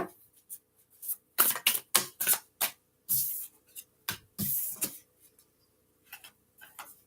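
Tarot cards are shuffled by hand in repeated bursts of crisp riffling and slapping, close and clear, separated by short quiet gaps in a quiet room.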